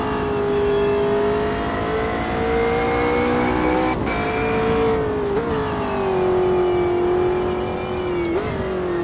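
A McLaren race car engine in the Automobilista 2 racing sim drones at steady revs with a strong, buzzy tone, with occasional brief gearshift blips and pitch dips along a continuous, loud run.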